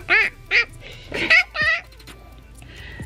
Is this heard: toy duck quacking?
yes